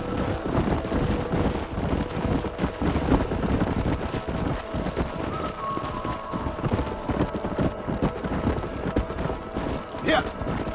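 Steady clip-clop of horse hooves in Red Dead Redemption, a continuous rhythmic trot carrying on under occasional spoken voices, with a brief whinny-like tone near the end.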